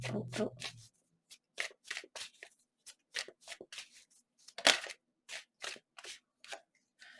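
Tarot cards are shuffled in a quick series of crisp riffling bursts that repeat about a dozen times in an uneven rhythm, close and fairly quiet, after a brief voice at the very start.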